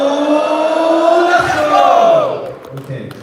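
A large crowd at a live celebration event shouts a loud, sustained group cheer with many voices rising together, then fades into scattered calls and murmur.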